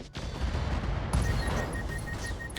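Ammo explosion from the mech combat game BattleTech with the RogueTech mod: a dense, rumbling blast of booms and crackling detonations, loud and continuous, followed by thin high electronic beeps.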